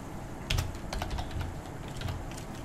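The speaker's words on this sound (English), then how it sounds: "now I'm free to be able to type in whatever I like here" Keys tapped on a computer keyboard in a short, irregular burst of clicks, close and fairly quiet, with no voice over them.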